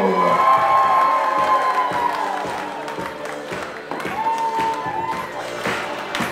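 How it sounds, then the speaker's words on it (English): Wedding guests clap and cheer for a bridesmaid, with loud applause, whoops and crowd noise at first, then a rhythmic clapping that continues under voices and music. "I'll give a round of applause for our bridesmaid, Jamie Kane, escorted by usher Roger Boko."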